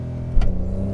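A Porsche 911 of the 992 generation holds a steady, loud engine drone under launch control, then surges with a sharp rev as the car begins to accelerate.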